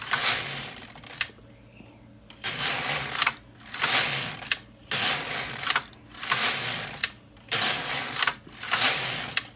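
An LK 150 knitting machine carriage is pushed back and forth across the needle bed to knit off stitches, giving six or so loud, close, rattling mechanical sweeps of a second or more, separated by brief quiet pauses.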